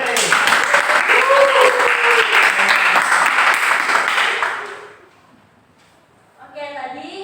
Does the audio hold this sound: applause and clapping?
yes